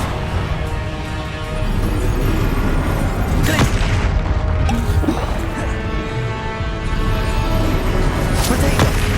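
Explosive Confringo fire spell bursts in Hogwarts Legacy, heavy booming blasts and crackling impacts over a dense, loud battle din, with sharp transient cracks near the middle and end.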